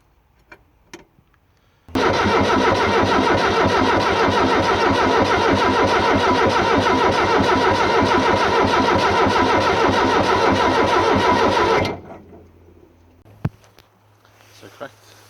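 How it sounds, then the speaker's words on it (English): An excavator engine is cranked by its starter for about ten seconds, a loud steady rapid chugging that begins abruptly and cuts off without catching, leaving quiet clanks afterward. "First of all, I'm going to try to crank the engine."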